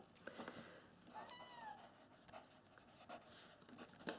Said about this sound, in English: So we're just going to note this down on the back.